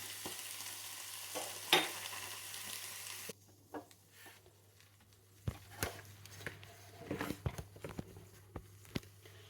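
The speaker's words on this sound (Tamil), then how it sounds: "பூண்டு, வெங்காயம் நல்லா வதங்கி வரண்டா, ஒரு பாதி வதங்கினா போகிறோம்" Garlic and onion fry in a pan for a side dish served with rice or dosa. A steady sizzle comes first, then quieter scattered clicks and scrapes of stirring.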